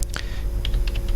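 Quick keystrokes on a computer keyboard while a Cisco router is configured in the GNS3 emulator; a short, close burst of several clicky taps.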